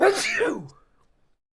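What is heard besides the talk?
sneeze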